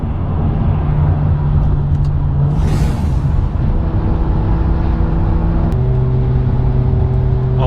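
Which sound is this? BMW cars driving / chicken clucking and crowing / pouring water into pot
BMW cars driving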